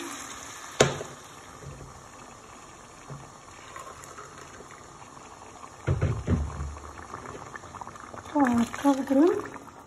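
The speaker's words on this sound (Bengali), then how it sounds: "আমি 2 কাপ পানি দিয়ে আরও পুরা দিব" Water splashes briefly into a pot of soaking rice for chanar pulao, a short pour standing out from a quiet kitchen background, with a voice speaking near the end.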